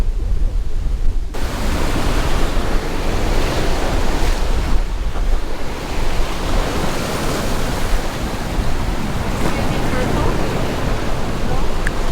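Waves washing in at Punaluʻu black sand beach, a loud continuous surf roar with heavy wind buffeting the microphone throughout.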